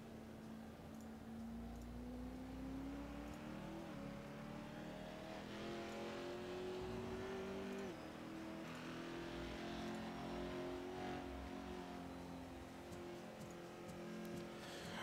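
A DXR Pro2 race car lapping the tight Summit Point Raceway, its engine revving up steadily and dropping back at each gear change, a continuous close onboard drone with two clear upshifts.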